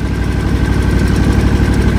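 A lawn mower engine idles roughly right after an hour and a half of mowing, loud and close, with a continuous low rumble and uneven knocking pulses throughout.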